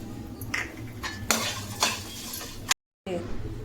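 A spoon scrapes and stirs fennel seeds in a pan for a brinjal gravy, with metallic clinks against the pan over a low sizzle, close and fairly quiet, cut by a short silent gap near the end.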